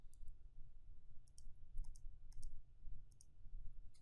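A computer mouse clicks crisply and faintly in small bursts, several separate clicks spread over a few seconds against a quiet low background hum.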